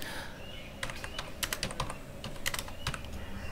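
Computer keyboard typing in quick, irregular bursts of crisp clicks, close up and clear, with no talking.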